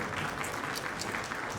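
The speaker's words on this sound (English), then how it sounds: "Applause for this." Steady audience applause at a ministerial panel discussion on campus-to-career skills, a dense wash of many hands clapping continuously at moderate distance, fairly quiet and unbroken.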